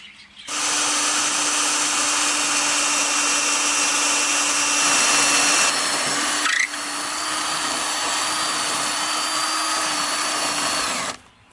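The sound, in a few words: power drill drilling mounting holes in the edge of an electrical board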